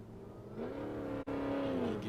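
A drift car at a Formula Drift Pro Spec qualifying round in Grantsville, Utah, starts its first run with a loud, sustained engine roar that briefly dips, then pulls steadily again.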